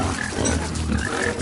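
Pigs in the survival video game Don't Starve grunt and oink in a continuous, close, steady stream of low snorting.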